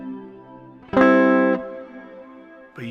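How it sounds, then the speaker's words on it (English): Electric guitar through a Digitech Hardwire RV-7 stereo reverb pedal, a sustained chord ringing loud for about half a second over a washy, phasing reverb tail that lingers softly behind it. "you can kind of hear some of that phasing going on in the background"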